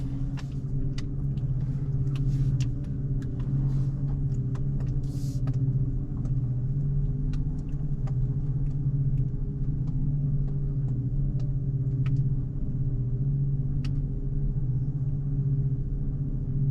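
A car being reversed while loaded with firewood in Norway, its engine giving a steady, close, low rumble that holds even throughout, with faint clicks and rattles on top.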